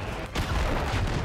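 Bombs explode in a Black Ops 6 campaign mission, a heavy blast rolling into continuous loud rumble and crackle that fills the whole moment.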